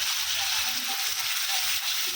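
Garlic paste sizzles in hot oil in a pan, a steady bright hiss with a faint bubbling crackle that stays even from start to finish.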